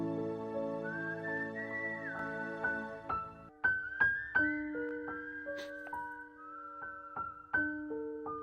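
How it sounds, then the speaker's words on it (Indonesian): A tune is whistled in a romantic Hindi film scene, clear and close, one whistler starting a phrase and another continuing it, over plucked accompanying notes. "Pada saat Pooja meniru siulan Rahul, dia tidak tahu ujungnya."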